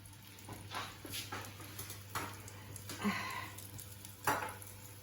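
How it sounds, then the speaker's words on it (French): Vegetables for a peas-and-carrots dish sizzle softly in oil in a pan, with a steady low frying hiss broken by occasional clinks and stirring knocks of utensils against the pan. "Laisse griller un peu dans l'huile pour prendre un petit peu de couleur."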